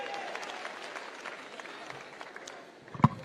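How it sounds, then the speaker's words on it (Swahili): A political rally crowd clapping in a dense, moderately distant patter that builds to a sharp louder burst near the end. "Makofi kwa mheshimiwa tena."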